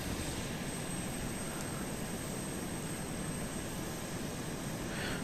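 An A-10 Thunderbolt's jet engine spools up and accelerates along a runway in the Arma 2 video game, a steady, dense roar that holds at one loud level throughout, with no voices.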